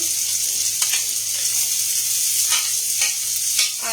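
Capsicum sizzles in a hot wok for paneer soup, a steady bright hiss broken by a few sharper crackles and spatters, close and with no talking.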